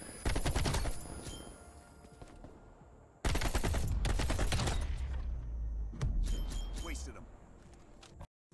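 Bursts of AK rifle fire in Call of Duty: Black Ops Cold War, loud rapid automatic strings separated by pauses, mechanical clicks between, with a voice talking underneath.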